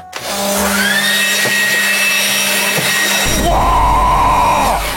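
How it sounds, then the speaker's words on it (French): A wind blower item in a video game roars loud and steady like a motorized fan, close and continuous, and its pitch and tone shift partway through. "J'ai le grand et unique souffleur de vent de l'extrême."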